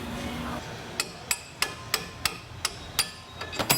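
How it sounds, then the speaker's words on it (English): Sharp metallic hammer blows drive a chisel between the yoke and the drive shaft of a rusty vehicle during a transmission job. About ten crisp, evenly spaced taps come close up, with no talk. "Using a chisel just in between the yoke and the drive shaft itself, just to make it a little easier to move out."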